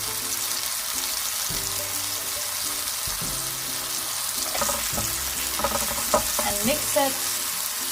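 Mushrooms fry with oregano and a pinch of salt in a hot oiled pan, a steady close sizzle with stirring clatter toward the end and a brief spoken remark.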